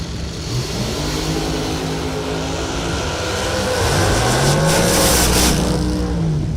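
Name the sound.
drag race cars accelerating down the strip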